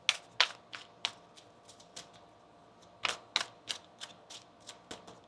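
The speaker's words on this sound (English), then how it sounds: "One more shuffle here." Crisp bursts of tarot cards riffling and snapping together, several quick clusters of sharp clicks with short pauses, close by and fairly quiet.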